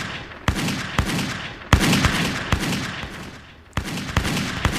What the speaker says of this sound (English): As the shots rang out